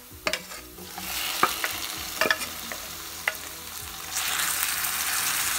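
Chow chow vegetables sautéed in a pan, with several distinct scraping stirs of a spatula over a sizzle that grows louder and steadier toward the end.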